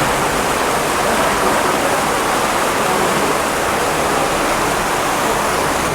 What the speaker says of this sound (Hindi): हर तरफ से पानी पानी है।